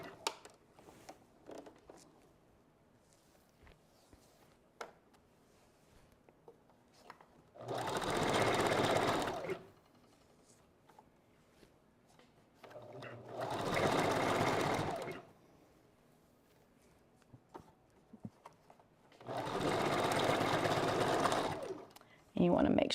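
A sewing machine back stitches a wig bundle in three loud, close bursts of rapid whirring, with quiet gaps between them filled by soft handling sounds.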